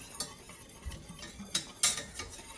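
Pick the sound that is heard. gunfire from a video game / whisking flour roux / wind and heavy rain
whisking flour roux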